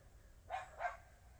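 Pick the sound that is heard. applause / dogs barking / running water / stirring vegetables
dogs barking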